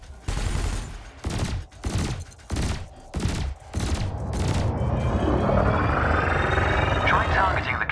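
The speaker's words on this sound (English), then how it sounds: "your laser will fire until the capacitor is depleted" Ship lasers fire in Elite Dangerous as a burst of rapid, punchy shots, then settle into a sustained roaring wash, loud and close, with a voice talking over the bursts.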